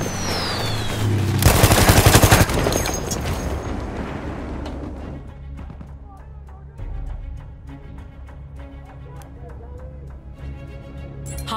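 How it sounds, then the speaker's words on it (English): Battlefield 1 combat opens with a loud, dense burst of machine gun fire lasting about a second. Rumbling blasts and scattered shots follow, fading into ongoing battlefield noise. "Machine gun! Over there!"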